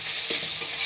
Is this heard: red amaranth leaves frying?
yes